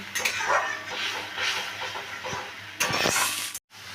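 Garlic paste is stirred into a simmering fish curry masala for rupchand fish in a pan, a steady sizzling hiss with soft scraping and a louder burst of stirring near the end, close up.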